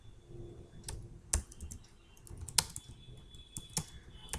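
Keys tapped on a computer keyboard while writing SAP ABAP code, a scattered run of soft clicks with a few sharper, louder taps, heard close and alone.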